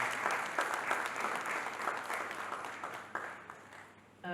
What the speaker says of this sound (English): Please give them a round of applause as they come up to the stage.